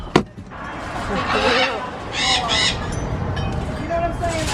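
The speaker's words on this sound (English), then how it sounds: "They're bringing the parrots out." Parrots at a beach shop on Anna Maria Island let out several sharp squawks and calls, fairly close, mixed with people talking and outdoor background noise.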